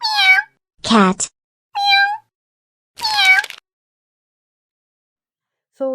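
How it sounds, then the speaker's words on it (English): Several distinct cat meows, each short and clear with a falling pitch, separated by pauses, with a fainter final meow cut off at the end. "cat"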